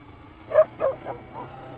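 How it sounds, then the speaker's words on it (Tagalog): A few short dog barks or yips, four in a row at a moderate distance, fading slightly, with quiet background, beside the road in Santo Tomas, Batangas. "Aso."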